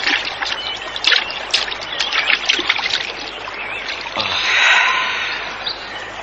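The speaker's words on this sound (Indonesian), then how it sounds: "Aku akan mencuci muka dulu." River water splashes and trickles as hands scoop it up to wash a face beside a river, with several close, bright splashes and dripping over a quiet outdoor background.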